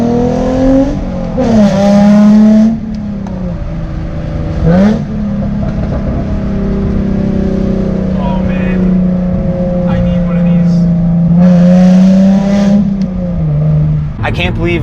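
Modified Hyundai Genesis Coupe 3.8 R-Spec V6 under way, loud droning engine and exhaust rising and falling through gear changes with rev swells, while someone talks over it inside the car.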